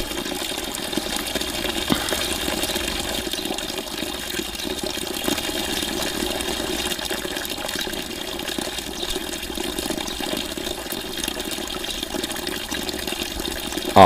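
Water from a spring, flowing at about 14.5 litres per minute, a steady close gushing stream that runs unbroken with no voices.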